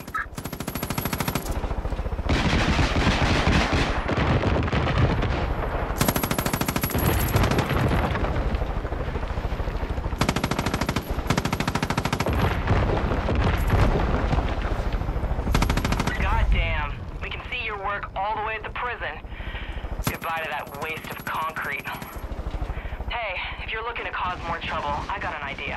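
Heavy automatic gunfire from Far Cry 5 rattles in long, loud bursts with brief gaps, over a whirring rotor-like drone. Someone talks under the shooting in the later part.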